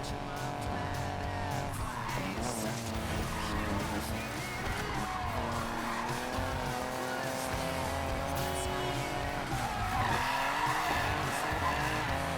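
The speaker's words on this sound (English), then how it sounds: "that was a great drift right there" Car drifting in the Need for Speed Payback racing game: loud engine revving with sustained tire squeal and skidding that stays continuous and close, shifting pitch as the car slides through turns.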